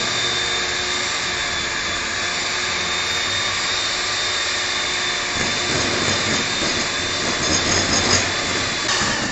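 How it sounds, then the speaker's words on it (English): A hand whisk creaming butter for chocolate chip cookies in a hotel-management kitchen class: a steady, loud whirring drone that holds unbroken throughout, with slight rattling changes toward the end and no voices. "So for creaming we are using a hand whisker."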